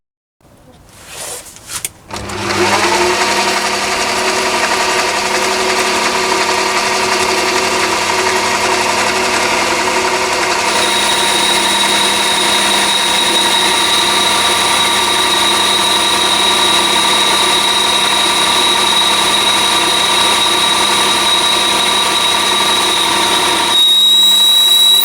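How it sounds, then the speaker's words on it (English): A lathe runs steadily while a brazed carbide boring bar cuts 316 stainless steel, giving a loud, continuous machine drone after a brief start-up, with a thin high whine joining partway through and no talking. "that one's cutting lovely there on the 316 stainless steel"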